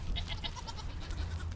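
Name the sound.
goat bleating in pasture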